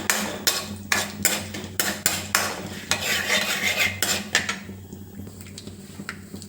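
Mustard seeds, cumin, chana dal and urad dal fry as a tempering in a pan, giving a close, busy crackle of quick pops and sharp ticks that thins out toward the end, with no talking.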